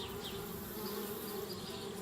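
Bees swarming around a tree house in the video game Anna's Quest give a continuous, dense buzzing drone, steady and fairly close, with no voices.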